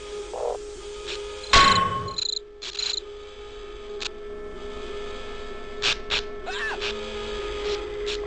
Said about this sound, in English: That's a cricket noise.